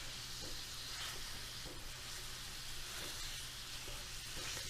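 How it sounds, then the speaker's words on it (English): Ground sausage fries in a pan with a steady, dense sizzle and hiss and faint stirring scrapes underneath, continuous throughout with no talking. "we're just going to cook this up so it's just like ground sausage"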